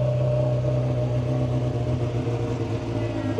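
A 600 cc used motorcycle from 2008 idling and revving at a used bike fair in Caruaru, a steady mid-pitched engine hum, close and continuous, with a slight rise at the end.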